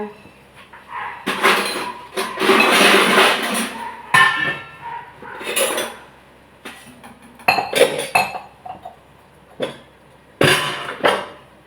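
Dishes and utensils from a basket of household pots clink and clatter in a rural home, coming in repeated bursts of metallic knocks and rattles with short pauses between them.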